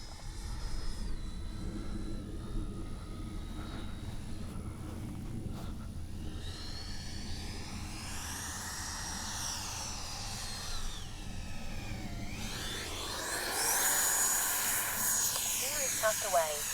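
Small RC JAS-39 Gripen jet powered by a 70mm electric ducted fan flies past, its steady whine rising and falling as it climbs and banks, then grows louder and higher-pitched near the end, with people talking throughout.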